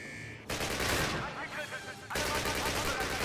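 Rapid automatic gunfire crackles in dense bursts in the 2003 Call of Duty game, with loud volleys separated by a brief lull, and someone talks faintly beneath it.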